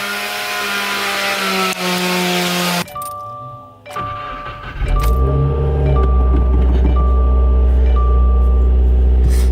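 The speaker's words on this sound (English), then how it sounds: "let me get you guys a cold start right now" A 2018 Subaru WRX engine cranks and catches on a cold start, then settles into a loud, steady idle with a deep rumbling exhaust drone.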